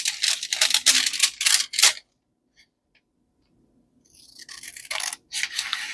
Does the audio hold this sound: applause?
no